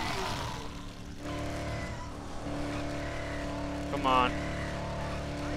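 A car in the Dead Island 3 video game drives with a steady, droning engine and brief tire and skid noises, while a voice speaks briefly over it.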